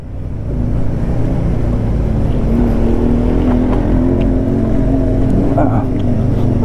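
A Bajaj Avenger 160 motorcycle engine drones steadily at close range on a rough off-road trail from Beni to Tatopani, a loud continuous hum with slight surges, as voices talk.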